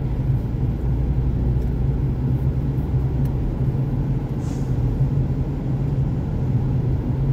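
Car moving in slow, congested road traffic, a steady low engine and road rumble from inside the vehicle, continuous and fairly loud with no talk.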